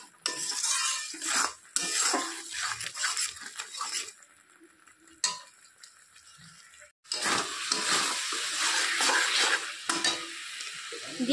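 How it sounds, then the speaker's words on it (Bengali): Spoon scrapes and stirs egg curry gravy in a pan, clattering against the metal amid a loud sizzle, in bursts with short quieter pauses. "পুরো গ্রেভিটাকে ভালো করে কষাতে হবে, একটা গ্রেভির মতো হবে।"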